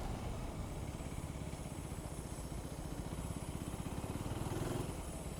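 A KTM 390 Adventure X Plus motorcycle engine hums steadily while riding, a low, even pulsing drone with wind noise over it and no voices.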